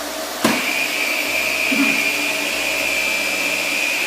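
A household vacuum cleaner switches on with a click and settles into a steady, loud whine and roar, running close by near a dog being trained to stay calm around it.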